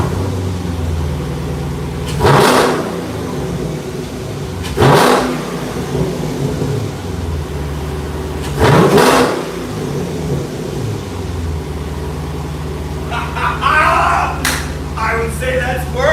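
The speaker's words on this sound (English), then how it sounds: "When I start the car up and I actually step on the gas" Car engine with a newly installed air intake, blipped three times in sharp, loud revs separated by idle, followed by a burst of rattling clatter near the end; a voice talks faintly in between.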